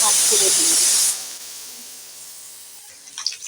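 A pressure cooker releases steam in a loud, close hiss for about a second before cutting off, leaving a quiet room with faint clatter near the end.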